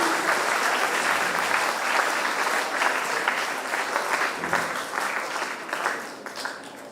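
A large crowd applauds steadily and loudly, the clapping sustained throughout before tapering slightly at the end.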